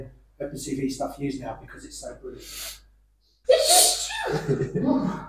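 A single loud, close sneeze bursts out abruptly after a brief pause in conversation, with people talking just before and continuing right after.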